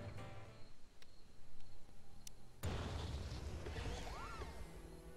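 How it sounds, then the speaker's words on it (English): A missile explosion in the game Stranded: Alien Dawn in the Desertum region: a sudden loud blast midway that cuts through quieter game sounds and rolls into a sustained rumbling wash with whooshing tones, no talking. "run back before the missile hits you"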